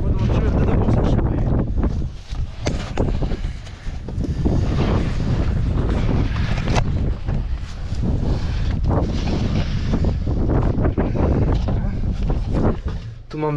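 Strong wind in an open field buffets the microphone in loud, continuous gusts, with people talking faintly underneath beside a broken-down Case IH Steiger tractor.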